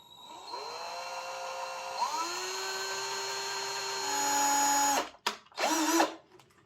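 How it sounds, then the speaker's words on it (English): Small electric drill boring through a plastic insert onto the wheel of a Bachmann Branchline Class 4 model locomotive, a steady whining drone that rises in pitch after spin-up, then stops, restarts briefly and fades, close and alone. "Just gently drill through the plastic insert onto the wheel, and that should leave a mark on the wheel."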